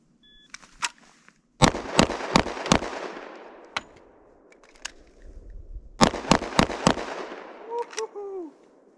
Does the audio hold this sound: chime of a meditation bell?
no